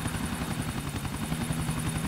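Helicopter in the video game GTA 4, a steady rhythmic rotor chop with a continuous engine whine, heard fairly quietly and alone.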